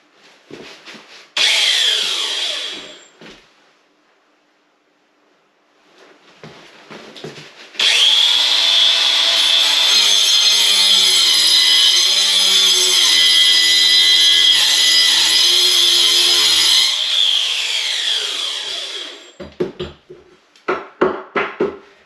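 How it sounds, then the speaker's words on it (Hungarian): A carbide-tipped power saw blade cuts into a wooden beam during removal of a beam wall, with a short burst of cutting, a pause, then a long steady loud whining cut about ten seconds long, followed by knocks and clatter. "Ez ilyen kemény fém lapkás, ez a fűrészlap."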